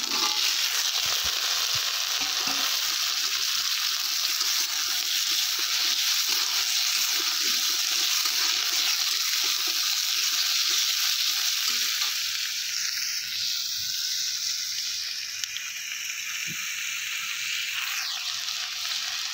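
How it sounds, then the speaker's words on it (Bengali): Cut, washed potatoes frying with onions in a pan, a strong steady sizzle that fills the whole stretch, with stirring scrapes early on and a slight drop in intensity toward the end. "পেঁয়াজটা দিয়ে একটু নাড়াচাড়া করে এরপর আমি কেটে ধুয়ে রাখা আলুটা দিয়ে দিচ্ছি"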